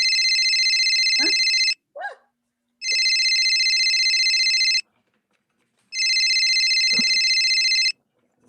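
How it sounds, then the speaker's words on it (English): A telephone rings in three long, loud electronic bursts separated by short pauses, with a dog's brief whimpers and yelps heard between and under the rings. "Phone call."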